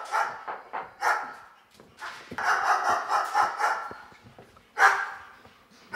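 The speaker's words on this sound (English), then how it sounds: "Good dog, Ginger." A pet dog named Ginger barks repeatedly in sharp bursts, fairly close, with gaps between the barks and a final loud bark near the end.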